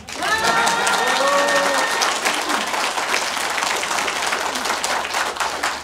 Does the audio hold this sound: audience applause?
yes